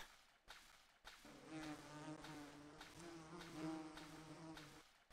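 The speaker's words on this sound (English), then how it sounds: "I hate that buzzing sound." An insect-like buzzing drone in the horror video game Silent Hill 2, a wavering, pulsing hum with short breaks, quiet and eerie, alone without speech.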